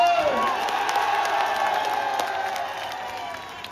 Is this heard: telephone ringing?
no